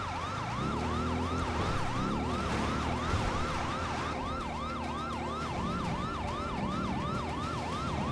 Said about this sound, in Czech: Tak vypneme majáky i sirény